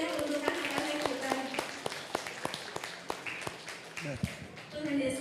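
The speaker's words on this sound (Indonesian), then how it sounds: "Kita berikan tepuk tangan yang mulia untuk anak-anak kita." Church congregation clapping for Sunday school children at a Christmas service in Semarang, with scattered sharp hand claps under steady crowd noise and voices talking throughout.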